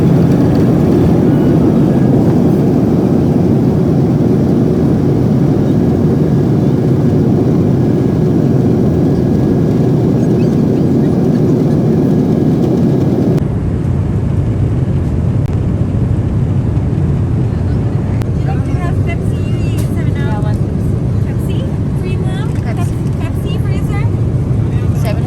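A steady, loud low rumble of engine and airflow fills the cabin of a Boeing 777-300 in flight; it continues unbroken, with a shift in tone partway through and faint cabin sounds on top.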